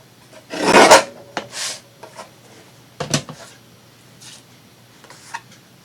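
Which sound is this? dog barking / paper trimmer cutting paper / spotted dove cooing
paper trimmer cutting paper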